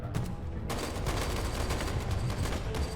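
Dense, rapid gunfire in a video game, several weapons firing at once in an unbroken clatter that stays loud and close for the whole stretch.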